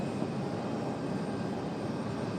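A UPS Airbus A300 at Raleigh-Durham International Airport, heard as a continuous broad engine roar that stays steady and fairly loud throughout with no talk.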